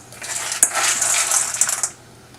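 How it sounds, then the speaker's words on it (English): Chocolate chips pour into a bowl for sprinkled cookie sticks, a close, bright rattling patter of small hard pieces striking the bowl for under two seconds before stopping. "So I'm just going to put a little bit of chocolate chips in here."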